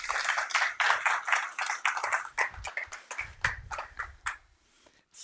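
A small audience at a sommelier championship final claps for the finalists, giving uneven, fairly close hand claps that thin out into a few scattered claps before fading.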